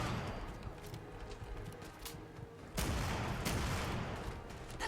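A VG double barrel shotgun fires in Fallout 4, with a few heavy blasts and scattered booms of combat, fairly faint and mixed with game background noise.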